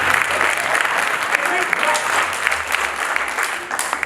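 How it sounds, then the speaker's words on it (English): Steady applause from a crowd fills the whole stretch, dense and continuous with a few louder claps poking through, at a Nanyuki High School performance. "A big clap for this serious man."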